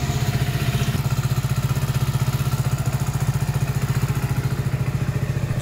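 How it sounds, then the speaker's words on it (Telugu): A Hero HF Deluxe BS6 motorcycle, just repaired for a starting fault, runs at a steady idle with a rapid, even thumping pulse, close and loud, with no voices. "బండి చాలా స్మూత్గా స్టార్ట్ అవుతుంది ఫ్రెండ్స్."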